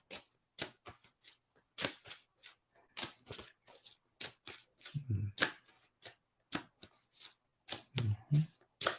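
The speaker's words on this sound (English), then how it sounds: "I'm gonna shuffle this deck again" A deck of cards is shuffled repeatedly at close range, producing crisp riffling bursts and snaps in an irregular rhythm, with brief low murmurs between some shuffles.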